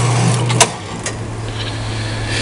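Logan metal shaper running in a shop, a steady low mechanical hum with a couple of sharp clanks, then winding down as it is shut off.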